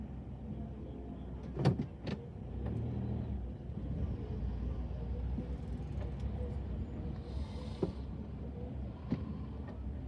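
A car drives slowly along a seaside promenade at night, a low steady engine and road rumble heard from inside the cabin, with a few faint thumps and clicks.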